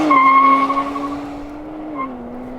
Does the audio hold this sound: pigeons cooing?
no